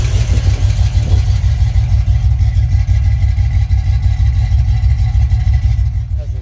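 A 1979 Pontiac Trans-Am's engine runs loud and near with a deep, throaty rumble that swells slightly early on, then holds steady before easing off at the end.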